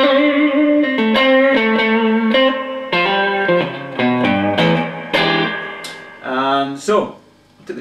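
Electric guitar through a Soldano Astroverb 16 1x12 combo amp plays a clean, chiming, twangy phrase of ringing chords and single notes, loud and close with no talking.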